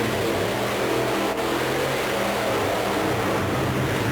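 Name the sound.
Pony Express Mustang monster truck engine racing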